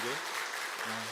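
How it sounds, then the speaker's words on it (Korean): A church congregation applauds during an Easter service, a continuous wash of clapping filling the room while a voice is briefly heard at the start and again near the end. "우리 먼저 음악을 주신 하나님께 영광의 박수를"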